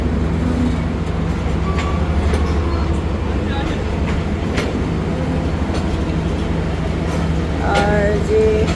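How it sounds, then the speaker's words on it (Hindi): The 27 Up Shalimar Express pulls away from platform 1 at Khanpur station with a steady low rumble and rolling wheel noise throughout, scattered clanks and squeals, and voices murmuring nearby. "खानपुर के प्लेटफॉर्म नंबर 1 से रवाना हो रही है 27 अप शालीमार एक्सप्रेस"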